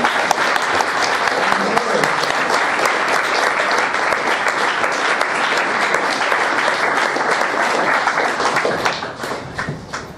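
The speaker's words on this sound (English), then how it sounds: "That was the round of applause." An audience at a PyCon UK 2016 conference talk breaks into loud, sustained applause, dense clapping from a large crowd filling the room before tapering off near the end.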